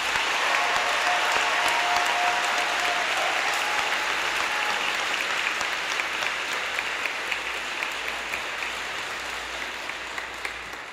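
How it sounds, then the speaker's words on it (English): A graduation audience applauds the high school seniors of the class of 2026 with steady, dense clapping that holds loud and continuous for about eleven seconds, easing slightly toward the end. "Let's give these seniors a round of applause."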